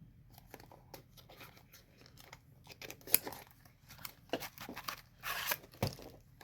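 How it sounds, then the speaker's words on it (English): A stiff cardboard box is cut open at close range, with intermittent scratchy cutting strokes, crinkles and small tearing bursts against a quiet background. "You just cut the box then."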